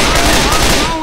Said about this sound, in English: Watch where the hell you're shooting!